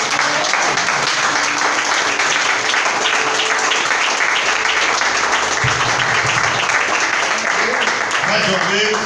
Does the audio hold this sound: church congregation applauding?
yes